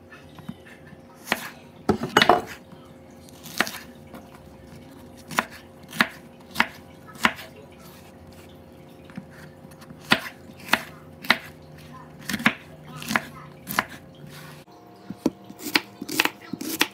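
A knife chops onion and green pepper on a cutting board in sharp, separate strokes at an irregular pace, with short pauses between bursts. The strokes are close and clear over a faint background hum.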